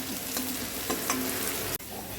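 Vegetables fry in oil for veg fried rice, sizzling steadily and loudly while a utensil stirs them with soft scraping strokes throughout.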